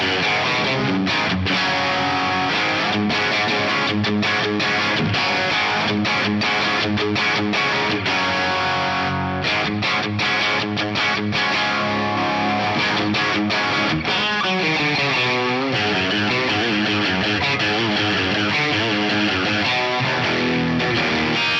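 Electric guitar driven through a Fulltone OCD-style distortion pedal stacked into a Marshall-style amp, playing a dense, bright, saturated riff with sustained chords and quick stops, loud and continuous with no talking.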